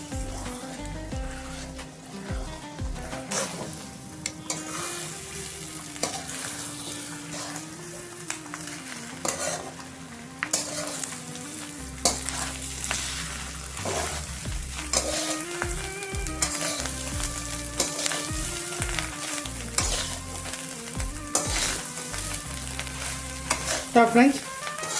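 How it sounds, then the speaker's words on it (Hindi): Fish roe is stirred and fried in a pan, giving a continuous sizzle with frequent spatula scrapes against the metal and a low background hum throughout. "अभी मैं अच्छे से मिक्स करेंगे और 5 मिनट्स में पकाएंगे।"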